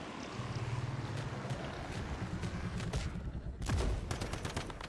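Rapid bursts of gunfire in the Warhammer 40K Rogue Trader video game, dense crackling volleys firing continuously with a sharper, louder burst near the end.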